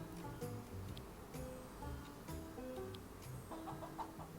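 Hens cluck quietly in the background of a mobile farming video game, scattered calls over a low murmur of activity.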